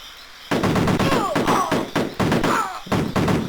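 Soldiers firing in the Commodore Amiga game Cannon Fodder: loud, repeated bursts of retro gunshots in short rhythmic volleys, with some descending tones between bursts.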